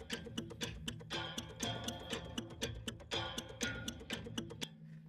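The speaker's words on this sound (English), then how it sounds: "Again, clocky, ticky sounds." Clock-like ticking from the Junk Shop patch of the Zero-G Mobeus percussion library plays as dense, rapid metallic ticks and clicks in a steady mechanical rhythm, moderately quiet and close, with no speech.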